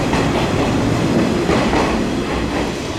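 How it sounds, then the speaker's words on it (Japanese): A limited express train rushes past close by at a station on the Izu coast, a loud steady roar of wheels and rail noise with a faint rhythmic clatter, sustained throughout. "特急電車が行くのを見送ってますが"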